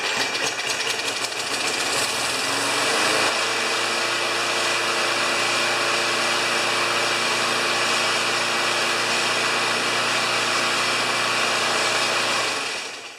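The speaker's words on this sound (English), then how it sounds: "I bet you this old lawnmower starts with 1 pull" An old Briggs & Stratton 3.5 HP lawnmower engine with a freshly rebuilt carburetor fires on a single pull and settles into a loud, steady, buzzing run close by, then cuts off at the end.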